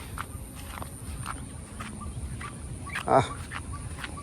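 Ducks out in heavy February rain at a village: a steady wash of rain patter throughout, broken by one loud, close quack-like call near the end.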